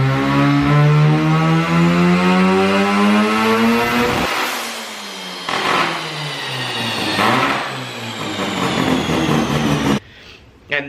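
A Mazda RX7 rotary engine screams on a dyno, rising steadily to a loud high pitch before abruptly cutting out, followed by further rev bursts and a sudden stop near the end.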